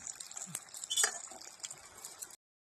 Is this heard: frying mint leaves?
yes